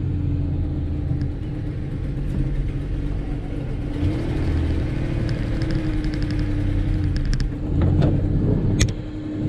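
A Willys engine with a slipping clutch revs and strains in a steady, loud rumble, the pitch rising and falling as it labors, with a few sharp knocks near the end.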